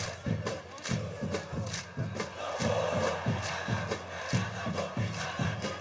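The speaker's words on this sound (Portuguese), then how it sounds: "Em estádio de futebol, torcida canta e bate palma." Organized football supporters in a Brazilian stadium sing and chant together while clapping in a driving, regular beat. The crowd roar is dense and continuous, with the claps punching through at steady intervals.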